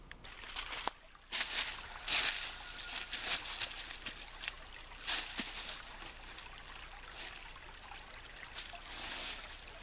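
Water is squeezed through a 0.1-micron survival straw filter into a clean bottle, giving an uneven, quiet trickle with irregular spurts and splashes and no talking.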